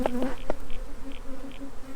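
Honeybees buzz close by during a spring inspection of a backyard beehive, a steady droning hum with a few sharper passes as bees fly near.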